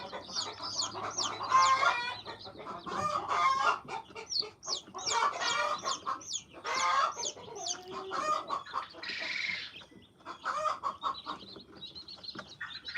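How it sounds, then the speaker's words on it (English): An old Easter Egger rooster clucks and murmurs in short bursts close by, with other birds calling faintly in the background. "our Easter egger rooster"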